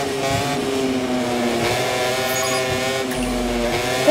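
A racing motorcycle engine in MotoGP 24 holds a steady high whine with strong, even harmonics, revving under acceleration and running loud and close without any voices.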